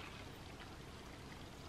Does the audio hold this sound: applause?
no